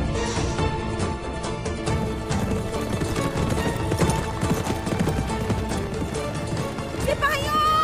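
Horse hooves clip-clop steadily in a historical Ottoman drama scene, dense and continuous under loud music and other action sounds.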